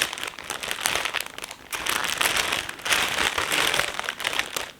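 Close crinkling and rustling of wrapping as a gifted set of mini sock yarn skeins is unwrapped, a continuous crackly texture in uneven bursts.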